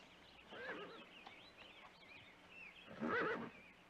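Horse neighing in a drama scene, two faint whinnies, the first short and the second louder near the end, heard from a distance with no voices.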